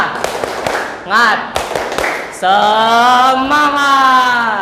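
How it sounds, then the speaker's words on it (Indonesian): Classroom of students standing for a rhythmic clapping chant, with sharp hand-claps in a quick pattern followed by a loud sustained group shout, close and energetic. "Tepuk semangat."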